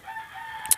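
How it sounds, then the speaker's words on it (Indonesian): A rooster crows once, a brief drawn-out call with a sharp high peak near the end, heard alone at moderate distance. "Ayam."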